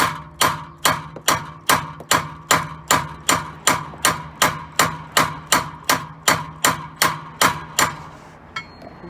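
About twenty evenly spaced hammer blows ring out loud and close on the ABS reluctor ring of a 2021 BMW E83 X3, each a sharp metallic strike with a short ringing decay.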